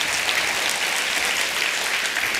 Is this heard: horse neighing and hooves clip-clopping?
no